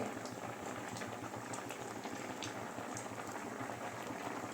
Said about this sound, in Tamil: ஒரு அஞ்சு நிமிஷத்துக்கு மேலே காய் வெந்துட்டுருக்கு